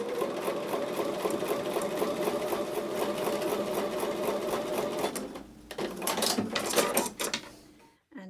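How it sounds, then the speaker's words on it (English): A sewing machine runs steadily at close range, sewing quilt block pieces with a quarter-inch seam, then stops and starts again in short, uneven bursts before falling quiet at the end. "So I'll take those over to the sewing machine and sew with a 1/4 inch seam."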